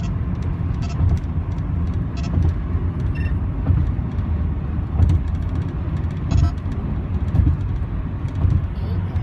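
A car drives along a road, a continuous low rumble of engine and tyre noise close by, with sporadic short electronic chirps and beeps over it.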